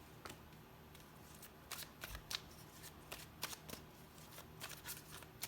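Tarot cards shuffled by hand in a quiet room, a steady run of soft riffling flicks and slaps with a few sharper snaps, close and fairly faint.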